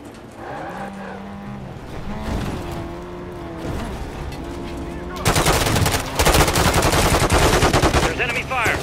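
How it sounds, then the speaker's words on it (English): Enemy gunfire in Modern Warfare III breaks out after a stretch of vehicle engine drone, turning into loud, continuous rattling automatic fire. "There's enemy fire."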